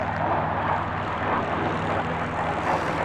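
A propeller airplane engine in flight drones as a steady, loud, continuous roar with a low throbbing hum underneath, heard from inside or near the aircraft with no break.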